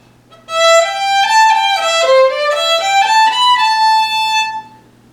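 A bright fiddle plays the lively old-time tune "Old Melinda" alone, with quick bowed notes and a steady rhythm running for several seconds.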